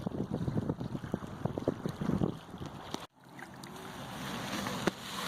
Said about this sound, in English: The wind has been really bad.